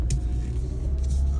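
A Mercedes-Benz car with a 722.6 automatic transmission running, a steady low engine rumble with faint higher hiss and brief bursts of noise, no speech.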